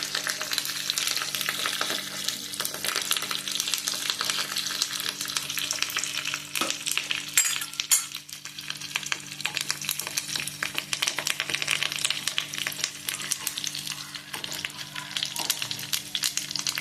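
Mustard seeds spluttering in hot oil for tempering, a dense crackle of rapid pops over a steady sizzle, close and fairly loud, with no voices.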